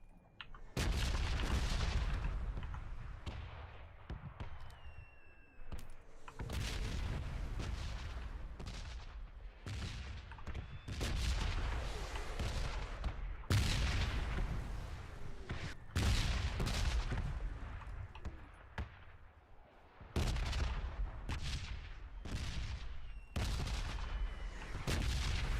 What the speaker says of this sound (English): These bombs are so annoying.